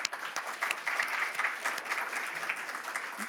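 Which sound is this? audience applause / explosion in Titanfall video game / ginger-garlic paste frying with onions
audience applause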